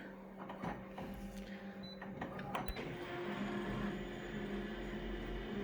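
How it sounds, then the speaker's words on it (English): An office photocopier with a document feeder runs and prints, its mechanism sounding rough: a steady mechanical whir and hum with a few sharp knocks and clicks early on, then an even drone. "This photocopier is not sounding too good today, I must say."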